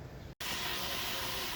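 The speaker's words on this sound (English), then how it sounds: "And now I'm just gonna spray it." A pump garden sprayer mists a tomato plant against spider mites, a steady close hiss of spray running after a brief pause.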